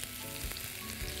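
Onions frying in a pan for a cauliflower and meat tagine, a dense, continuous close sizzle with faint stirring scrapes and no voices.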